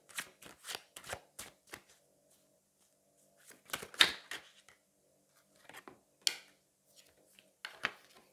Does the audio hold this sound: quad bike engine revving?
no